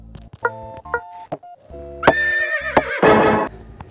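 Horse neighing in a blocky Minecraft-style mobile building game, a loud harmonic whinny with short calls early and a longer, rising neigh near the end, alone with no talk.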